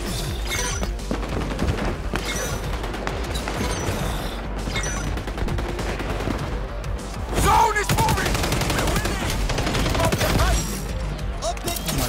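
Rapid gunfire and sniper shots in the XDefiant shooter game, dense bursts of sharp cracks and automatic fire going on throughout, loud and close, with a louder stretch near the end and some talk mixed in.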